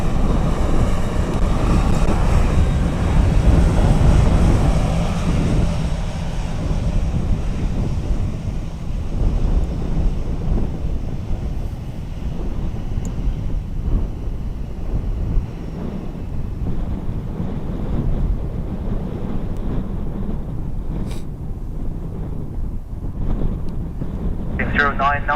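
An airplane takes off from runway 10 right at Dublin Airport in gusty wind, its deep engine roar loudest early then slowly fading, heavily buffeted by wind noise on the microphone.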